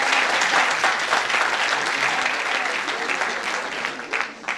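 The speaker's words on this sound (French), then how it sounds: "je vous demande s'il vous plaît de l'applaudir très très fort" Loud, sustained applause from an audience at a university round table for the university president, a dense crowd clatter that fades slightly toward the end.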